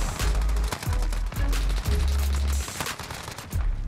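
Rapid bursts of Uzi submachine gun fire in the shooter game Modern Warfare, loud and close, several sustained volleys with heavy low thumps and brief gaps between them.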